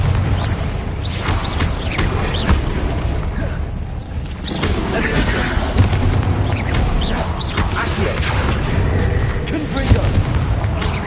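Repeated Confringo blast spells in a Hogwarts Legacy battle, a steady barrage of booming explosions and mechanical clatter lasting several seconds, loud and dense, with a brief lull partway through and voices mixed in.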